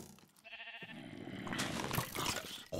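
Sheep bleating in the Minecraft video game, a short, faint, wavering bleat lasting about two seconds with no talk.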